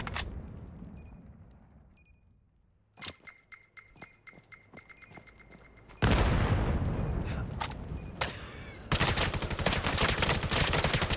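Gunfire in a competitive 5v5 video game match: sharp shots ring out in bursts and rapid volleys, building from sparse cracks to dense, loud sustained fire with metallic clinks.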